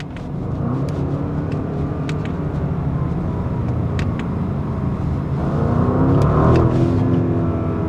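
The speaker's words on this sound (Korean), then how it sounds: "이게 밟았을 때 이 엔진 회전 돌아가는 이 감각, 약간 이 떨림, 그리고 이것과 함께 뒤에서 오는 배기음의 조합은 정말 끝내줍니다" An Audi RS Q8 engine hums steadily under load from inside the cabin in slow traffic, swelling into a stronger rev with rising exhaust rumble near the end, with no talking.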